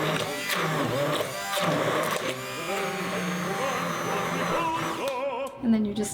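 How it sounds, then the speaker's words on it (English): An immersion blender whirs steadily while mixing chocolate with liquid stevia, a continuous motorized buzz running through the whole stretch with a person talking over it. "all you do is use an immersion blender and mix all that together."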